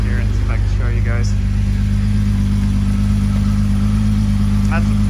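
An old classic car's engine, smoking badly and low on compression, idles with a steady, loud, low hum. Faint voices are heard in the background at a few points.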